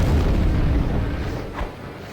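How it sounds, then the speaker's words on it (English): A boss's huge explosion attack in American McGee's Alice lands as a deep, rumbling boom that fades over about two seconds, with a smaller burst near the end. "he has a huge explosion attack"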